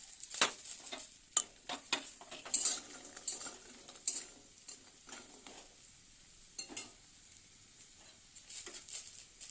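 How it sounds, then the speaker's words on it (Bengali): Lentil dumplings (dal bori) frying in a pan, with a soft sizzle beneath scattered clinks and scrapes of a utensil stirring against the metal, fairly quiet and close with no talking. "ডালের বড়িটা ভেজে নেব।"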